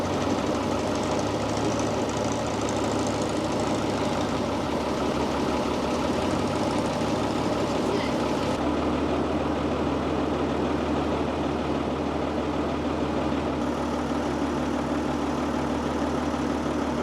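Boat engine chugging in Bangkok, a loud, steady, rough mid-pitched drone with a knocking pulse that runs throughout and shifts tone partway, with no voices.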